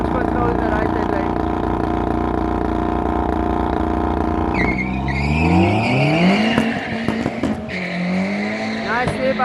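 An Audi RS3 race car launches hard at a private track event, its engine roaring through rising gear pulls with tire squeal and wheel spin, loud and close, while a commentator talks over it.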